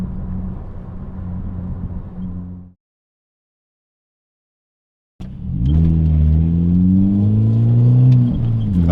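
Mini Cooper S R53 accelerating hard: engine drone, a sudden cut to silence, then a loud rising rev with climbing gear tones, close and unaccompanied by talk.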